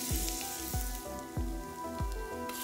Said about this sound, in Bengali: আধা মিনিট পর নিয়ে নিচ্ছি আদা কুচি, আরও আধা মিনিটের মতো ভেজে নিচ্ছি।